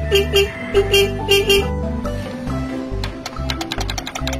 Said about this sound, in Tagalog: Malakas naman ang busina mga tol.